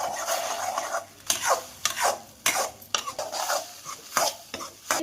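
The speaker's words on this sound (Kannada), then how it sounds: "ಇವಾಗ ಮಿಕ್ಸ್ ಮಾಡಿರೋಂಥ ಮೊಟ್ಟೆನ ಎಣ್ಣೆಗೆ ಹಾಕೋಣ. ಇದನ್ನ ಮಿಕ್ಸ್ ಮಾಡೋಣ." Beaten eggs frying in a little oil are stirred and scraped around a pan, giving repeated rough scraping strokes over a faint sizzle, close and alone without talk.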